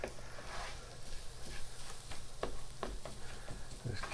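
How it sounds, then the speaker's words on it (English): Flour mixture sizzles softly in a hot pan while a utensil stirs it, giving a low steady fry with scattered scraping taps and clicks, close and quiet with no talk. "I just want to cook it for about a minute, just to cook the rawness out of the flour."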